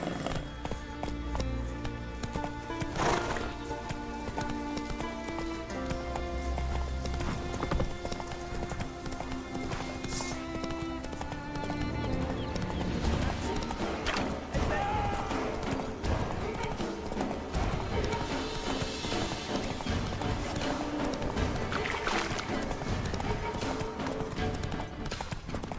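Galloping horse hooves in The Witcher 3: Wild Hunt, a steady clip-clop running under dense game music and effects, with a few brief voices and a possible whinny.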